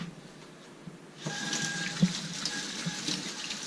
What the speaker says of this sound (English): I'm going to wash off my hand really fast.